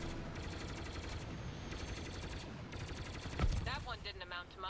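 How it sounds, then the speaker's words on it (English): Star Wars Battlefront II combat fills the scene with continuous rapid blaster and gunfire bursts, then a heavy explosion thuds nearby, followed by more shots and whooshing effects, all dense and loud, without clear speech. "Just flying, all of a sudden, just huge explosions,"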